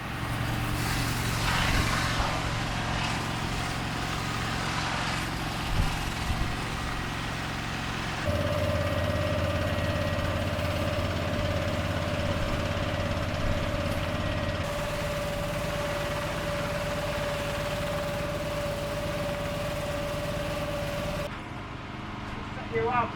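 A gutter vacuum machine drones steadily during roof cleaning, a continuous loud motor hum with a whining tone that shifts pitch partway through, while a person speaks over it.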